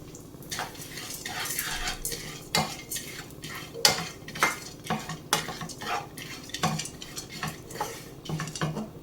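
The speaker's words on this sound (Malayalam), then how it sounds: "അതിലേക്ക് നമുക്ക് സൺഫ്ലവർ സീഡ്സ് ഇട്ട് കൊടുക്കാം. ഇതും അതുപോലെ തന്നെ നമുക്ക് റോസ്റ്റ് ചെയ്തെടുക്കാം." Sunflower and melon seeds roast in ghee in a pan, a spatula scraping and clinking against the metal in quick irregular strokes over a faint continuous sizzle.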